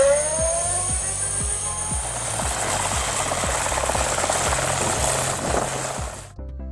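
A helicopter flies overhead with a steady, loud rotor thump and a whining turbine hiss, the blade beat pulsing in a regular rhythm until it cuts off abruptly near the end.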